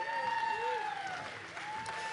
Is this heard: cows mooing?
no